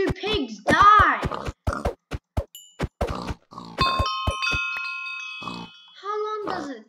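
Pigs in the Minecraft video game grunt in a run of short, clipped bursts with steady gaps between them, loud and close, with a few bright chime-like tones and a stretch of voice-like sound between them.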